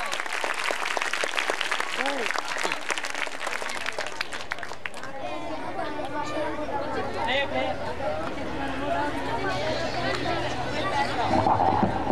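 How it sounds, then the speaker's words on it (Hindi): An audience at a stage performance for flood-affected children in Rajanpur applauds loudly and steadily, dense clapping mixed with crowd chatter and voices throughout. "जोरदार तालियां।"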